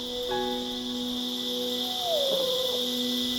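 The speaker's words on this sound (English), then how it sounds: "The sound you just heard is an eastern screech owl." Eastern screech owl calling at dawn in a mid-Missouri wildlife reserve, a faint whinny-like tremolo that descends in pitch, heard over a constant high insect drone and soft background hum.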